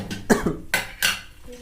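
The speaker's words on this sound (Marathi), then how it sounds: "मला खोकला लागला" A person coughs several times in quick bursts, close and fairly loud, with brief pauses between.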